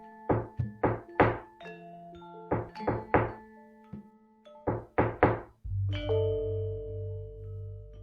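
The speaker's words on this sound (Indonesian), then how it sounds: "Salah satu pengikutnya menaiki telundakan dan mengetuk" Knocking on a wooden door, several short groups of two to four raps spaced across the stretch, fairly close and clear, the last followed by a low sustained tone.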